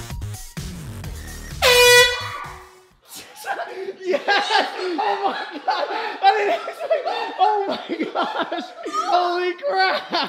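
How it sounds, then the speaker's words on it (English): A single loud, piercing air horn blast set off indoors as a prank, lasting about a second, then giving way to laughter and excited talking. "he's got a air horn"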